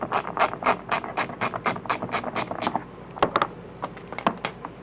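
A screw is backed out of the front grill of a Can-Am Spyder, giving a close, quick run of small ratcheting clicks, then a few scattered taps and rattles.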